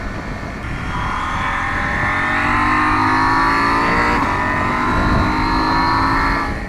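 A KTM 790 Adventure motorcycle engine rises into a loud, steady rev close by, its rising whine held for several seconds over a rough rumble, with no voices.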